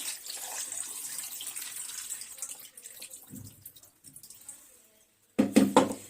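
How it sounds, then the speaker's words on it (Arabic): Tap water runs steadily into a bowl of washed, cleaned meat for a few seconds, then tapers off and stops, followed by a short burst of clattering and splashing near the end. "نحط فيها مية"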